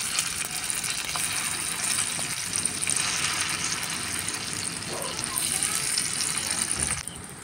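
A blended paste of lentils and pointed gourd hits hot oil in a wok with a broad, rushing sizzle. It holds loud and steady for several seconds, then eases off at the end.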